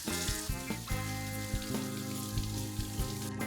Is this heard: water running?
yes